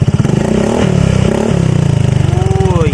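A Yamaha Fazzio 125 scooter with a Yoshimura R77 exhaust and silencer idles with a loud, close, throbbing putter. It swells with a rev, and a person speaks briefly near the end.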